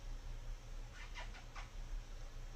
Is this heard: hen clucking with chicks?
no